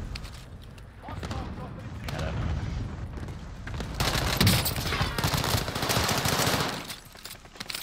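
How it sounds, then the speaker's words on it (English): Cluster strike explosions in a Call of Duty match rumble in rapid, overlapping bursts that swell loud in the middle and fade toward the end, with players talking over the blasts. "Enemy cluster strike."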